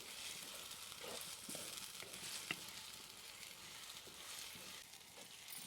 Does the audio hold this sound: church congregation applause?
no